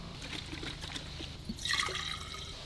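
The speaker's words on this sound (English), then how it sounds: "I have to pour myself a little bit more for the road" Coffee from a Rumble Go coffee maker poured into a Nalgene bottle at a campsite, a soft trickle of liquid that swells into a brighter filling splash near the end, close and moderately quiet.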